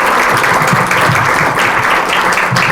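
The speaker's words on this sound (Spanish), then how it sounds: "les demos la bienvenida con un caluroso aplauso" A room full of audience members claps warmly to welcome a doctor as she comes up to speak at an evening lecture. The applause is dense and steady, loud and sustained for the whole stretch, with no voices over it.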